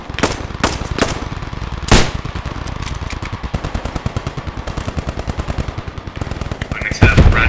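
Machine guns rattle in the Post Scriptum war game, loud and close. Long rapid bursts run almost without pause, with a few heavier single shots early on and a louder blast at the end.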